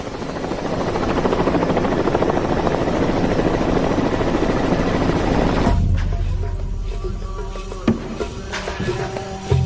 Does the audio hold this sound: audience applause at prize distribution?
no